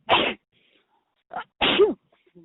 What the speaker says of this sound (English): I just sneezed a little bit